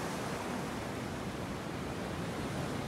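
Steady, broad wash of sea surf, a continuous rushing hiss with no distinct breaks, heard alone.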